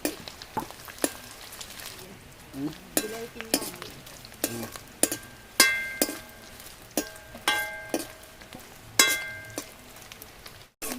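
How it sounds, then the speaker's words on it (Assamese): Fish fries in a pan with soft sizzling, broken up by repeated sharp metallic clinks and scrapes of a utensil stirring against the pan, close by and fairly quiet. "ইফালে মাছ ভাজি আছে"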